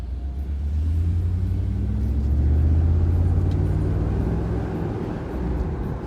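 Mercedes R129 500SL V8 with its muffler deleted, cruising with the top down: a steady, deep engine drone and rumble that swells slightly mid-way, close and continuous, with no talking.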